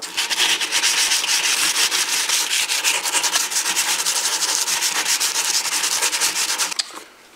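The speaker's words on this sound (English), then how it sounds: "now we're gonna do with the fine emery cloth." An axe head is hand polished with fine emery cloth, a close, steady, rhythmic rasping rub in quick strokes that stops abruptly near the end.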